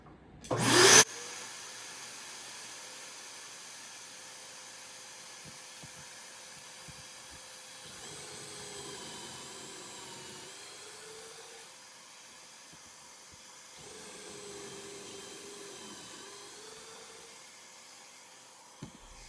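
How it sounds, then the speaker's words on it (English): A shop vac hooked up for dust extraction on a DIY work table build starts with a sharp click, then runs with a steady whining hum that swells twice as a tool draws air through it. "I have connected the shop vac to this so that we don't have any dust flying around here"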